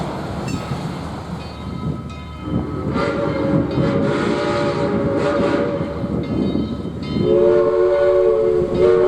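A mixed freight train hauled by diesel locomotives, with an ES44 mid-train unit, rumbles past with steady wheel noise and clatter, and a diesel horn sounds twice in long sustained blasts, loud and close.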